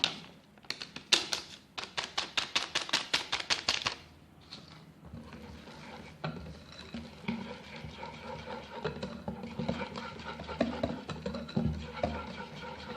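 A whisk beats semolina and baking powder batter for basbousa in a bowl, giving quick, rhythmic tapping strokes that start loud and steady, then turn to softer, continuous stirring.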